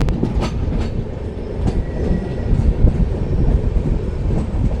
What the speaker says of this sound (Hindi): टोहाना को डिपार्ट करती हुई हमारी सरबद्दा भला एक्सप्रेस